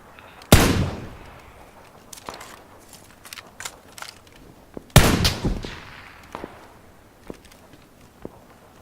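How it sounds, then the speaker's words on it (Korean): Two loud, sharp gunshots ring out about four seconds apart, each with a trailing echo, while lighter clicks and footstep-like taps scatter between and after them. "어 뒤에도 총소리"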